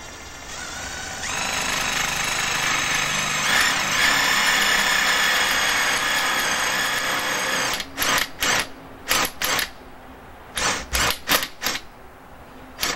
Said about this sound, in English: You don't want to drill all the way through it